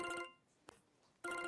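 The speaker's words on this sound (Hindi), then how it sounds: "तुम्हारे फोन पे कॉल आ रही है" A phone ringtone rings loudly with steady tonal bursts, cutting off briefly with a single click in between before resuming, with no voices over it.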